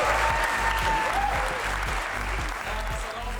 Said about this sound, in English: give the biggest applause to these brothers who created this